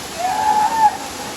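Rushing water from the waterfall at Waghbil near Badlapur pours in a close, constant wash, with a faint whistling tone running across it.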